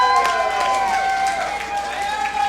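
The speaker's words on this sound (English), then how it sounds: "the Guyanese crowd's in full voice here today" A Guyanese crowd at a rugby match between Guyana and Barbados roars steadily after a score, a dense sustained wash of cheering and shouting with whistle-like tones, continuous throughout at moderate loudness.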